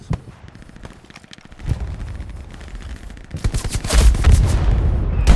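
Machine gun fire in Hell Let Loose at Utah Beach in a US World War II battle, rapid bursts of automatic gunfire with heavier booms, building from scattered shots into a loud, dense barrage near the end.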